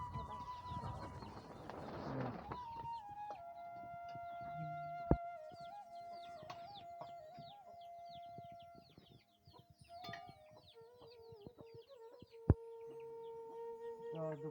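Chickens cluck and call around a village house in Bengal, India, while lunch is being cooked, with other birds chirping in the background; no one speaks, and the calls are steady and moderately near.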